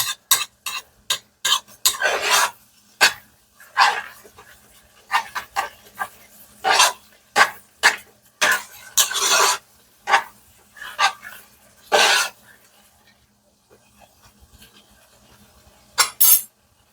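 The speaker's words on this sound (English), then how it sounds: "using a metal spoon on a non-stick pan" A metal spoon scrapes and stirs hamburger meat in an old, cheap non-stick pan, giving repeated short scraping strokes in irregular bursts, close and clear.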